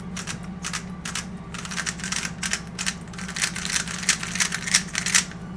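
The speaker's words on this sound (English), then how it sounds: "the cube sounds a bit clicky" Turning a SenHuan Mars 3x3 speed cube, which feels dry and sandy, produces rapid, crisp clicking and rattling in quick, uneven bursts, close and clear over a faint steady hum.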